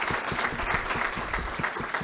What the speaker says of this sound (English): He deserves a round of applause for bringing this all together.